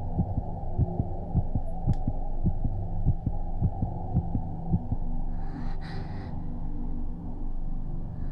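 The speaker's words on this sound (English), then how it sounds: "Is that supposed to be a heartbeat?" Steady, low heartbeat thuds pulse under a constant dark drone in the horror game Corpse Party Blood Drive, the beats fading into the hum about halfway through as a soft breathy rustle appears.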